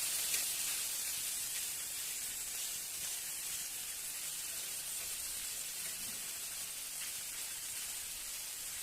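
Fish frying in a pan with oil, a steady loud broadband sizzle and hiss that holds evenly throughout, close up, with no talking.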